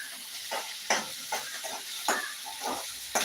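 Okra stir-fry with chopped onion and green chilli frying and being stirred in a pan, giving a steady sizzle broken by repeated scraping strokes of the spoon, close and moderately loud with no talking.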